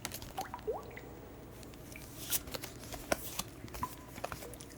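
Tarot cards drawn from a deck give soft, close rustles, light slaps and faint flicks of card stock, scattered and quiet over a low background hum, with no talk.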